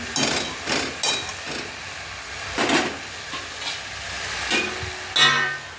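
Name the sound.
stirring jute leaves cooking in a pan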